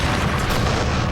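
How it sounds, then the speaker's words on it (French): A rocket launcher fires with a loud, rumbling boom that fills the whole moment, heavy and sustained with no voices over it. "Ou des lance-roquettes."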